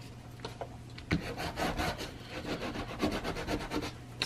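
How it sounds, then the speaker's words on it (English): The spine edge of a leather traveler's notebook cover is burnished by hand, giving a quiet, rapid back-and-forth rubbing with soft repeated strokes, close up and with no talking. "So I'm gonna go ahead and burnish that really quick."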